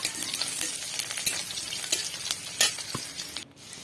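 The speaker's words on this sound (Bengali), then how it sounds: "গোটা জিরে আমি দিয়ে দিলাম ফোড়নের জন্য।" Whole cumin seeds sizzle in hot oil for tempering while the pan is stirred, giving a steady crackling fry with sharp scraping clicks and a brief pause near the end.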